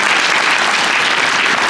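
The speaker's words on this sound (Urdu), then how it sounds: "آپ کی تالیاں حوصلہ افزائی کر رہے ہیں" Steady, dense applause from an audience at a headmaster's retirement ceremony, loud and continuous throughout with no voices standing out.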